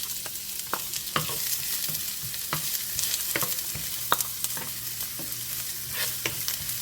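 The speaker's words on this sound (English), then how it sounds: "I'm using olive oil right now. We'll saute our onions first." Onions sautéing in olive oil in a pan, a steady close sizzle broken by frequent sharp crackles and pops, with no voices.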